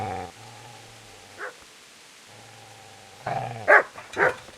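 A dog in the video game Kingdom Come: Deliverance growls low in two sustained stretches, then barks and yips in sharp close bursts toward the end.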